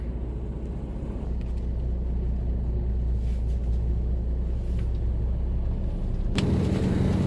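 A truck engine running a forced DPF regeneration idles with a steady low rumble and hum, close and continuous, rising slightly in loudness toward the end.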